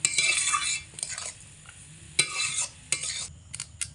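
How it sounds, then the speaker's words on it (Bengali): Semolina and sugar are stirred in a pan over low heat: gritty scraping strokes come in a few close bursts over a faint, low sizzle, with no voices. "তো চিনি দিয়ে আমি এর মধ্যে অনবরত এইভাবে হালকা আঁচে রেখেই নাড়াচাড়া করে নেব 2 মিনিট মতো।"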